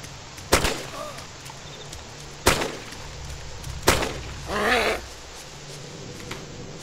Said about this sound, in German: ich bin jetzt da und knall sie jetzt ab